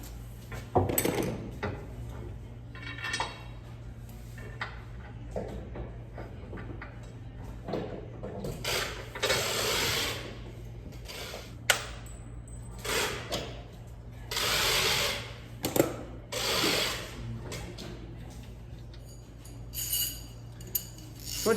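A 9/16 wrench tightens bolts on an Owl Sherpa roof rack being installed on a Sprinter van, giving irregular metallic clinks, clanks and ratcheting bursts with short quiet gaps in between.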